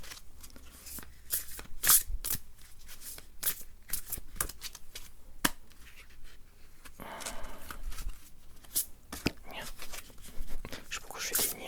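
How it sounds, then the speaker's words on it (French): Black tarot cards being shuffled by hand in a steady run of crisp riffles and soft slides, close and quiet, with occasional soft murmured speech between. "c'est du sport de mélanger le tarot noir"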